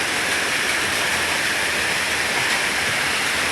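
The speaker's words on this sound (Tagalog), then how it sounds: "napakaulan guys ngayon" Heavy morning downpour roars as a constant broadband rush, loud and unbroken throughout, close by with no talking heard over it.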